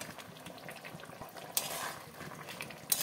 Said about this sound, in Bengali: 2-3 মিনিট মতন ফুটতে দেবো ঝোলে